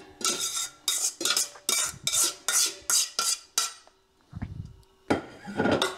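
A spoon scrapes and clanks against a cooking pot about a dozen times in a quick, uneven rhythm while pasta goes back in for American chop suey. The sounds are close and sharp, with a brief dull thud in one pause.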